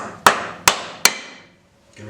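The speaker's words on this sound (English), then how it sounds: "we're going to take a soft blow hammer" A soft blow hammer strikes a gasket on a 2023 Harley-Davidson Street Glide motorcycle three times in even succession, each sharp, close knock ringing briefly before a short pause.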